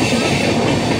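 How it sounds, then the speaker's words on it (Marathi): A Diva–Ratnagiri passenger train with general coaches pulls into a station, its continuous loud rumble and rattling wheel clatter steady throughout with no voices. "दिवा रत्नागिरी ट्रेन पण टायमातच आली आहे"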